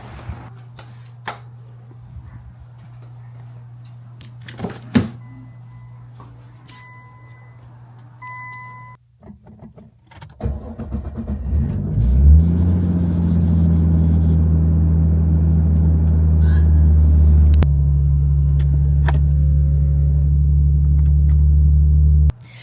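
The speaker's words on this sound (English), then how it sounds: "So I'm gonna pull Blaine's car out." A Nissan 240SX engine cranks and catches, then settles into a steady low idle rumble that continues, after some quiet clicks and shuffling.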